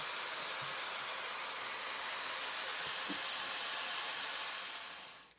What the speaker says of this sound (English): you can just hear them sizzle